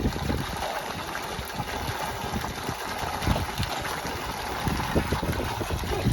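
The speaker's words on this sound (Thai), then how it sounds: "น้ำไหลอยู่หรอก" Water gushes steadily from the outlet of a two-inch solar-powered pump set beside a rice field. A dense, continuous rushing splash is heard close by with a faint motor hum underneath and no talking.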